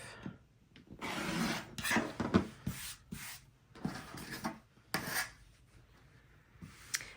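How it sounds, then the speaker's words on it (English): Rotary cutter trimming the edges of quilted fabric, a series of close scraping, rubbing strokes with short pauses between them. "I'm going to start by just trimming the very edges of this off."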